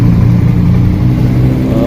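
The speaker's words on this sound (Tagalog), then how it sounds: "Ganyan po pagka-calibrate, dapat mainit ang makina." A warmed-up Yamaha Mio Soul i 125 scooter engine runs close and loud with a steady, even idle hum and no pauses after its throttle body has been cleaned.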